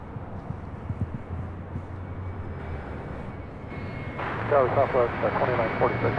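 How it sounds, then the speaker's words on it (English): A United Express SkyWest Embraer E175 arrives at LAX with a low engine rumble that swells louder near the end, while a voice talks over it. "Next arrival here on the north side is United Express SkyWest Flight 5823 coming from Haley and then E175 LL."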